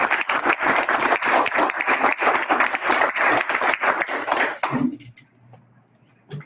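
Brisk clapping from a small group at a Woodland Park school board meeting, close and fairly loud for about five seconds, then fading into quiet room tone.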